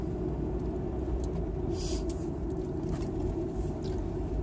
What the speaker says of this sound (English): we're driving through the big city of Brockville here